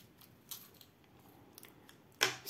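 Plastic ballpoint pen, a copy of the Xiaomi Mijia pen, being taken apart: a few faint clicks, then a sharp, loud snapping click near the end, close by and without talk.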